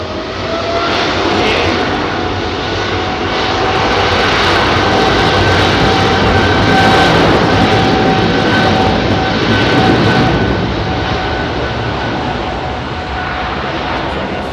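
Airliner taking off from Heathrow runway 27R, a loud, sustained jet engine roar close by that builds and holds steady with a whining tone, no voices over it.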